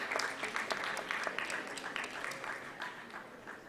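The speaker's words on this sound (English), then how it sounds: "Please give them a huge round of applause." Audience applause at an eye donation awareness event in Delhi, a steady, dense wash of many hands clapping that holds evenly throughout with no voices over it.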